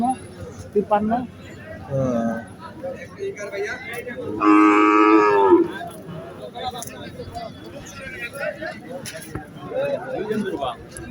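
A Sahiwal bull calf at the Setabganj cattle market in Dinajpur lets out one long, loud moo midway, surrounded by nearby people bargaining and talking over outdoor market noise.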